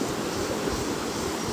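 The Karbi Langpi river flows in a steady, even rush of water, a constant broadband wash with no voices over it.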